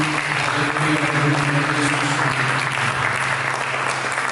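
A church congregation gives sustained applause during a sermon service, an even, continuous roar of clapping with a faint steady hum beneath it.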